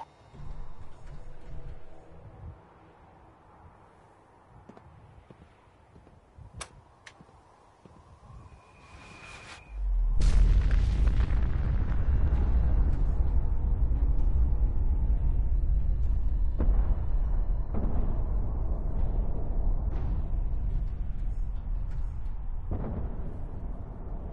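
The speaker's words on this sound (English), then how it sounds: "detonating a big bomb" A big bomb detonating in Fallout 4: after a quiet stretch with a few faint clicks and a brief tone, a massive deep roaring blast erupts and rumbles on steadily for many seconds, loud and heavy.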